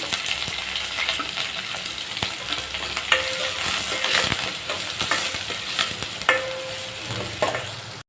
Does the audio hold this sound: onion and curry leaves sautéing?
yes